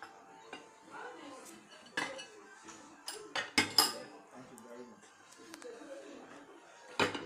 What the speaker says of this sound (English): he uses one bowl to wash and one bowl to rinse, and then you dry